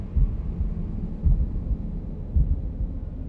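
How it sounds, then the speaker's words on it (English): Low, muffled heartbeat thumps in the puzzle game The Room, steady and throbbing at a slow rhythm, with no one talking. "Why is my heart beating?"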